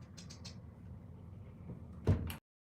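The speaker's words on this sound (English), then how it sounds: "You got a pound on the door so hard there." A door being pounded on gives one heavy, loud thump near the end, over a steady low rumble and a few faint higher taps earlier.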